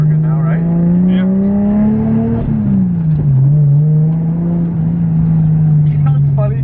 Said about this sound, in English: The turbo sounds like the old squeal that I had